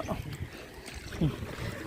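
A small boat glides along a narrow village canal, with soft water and wind noise under scattered voices of people calling out on board.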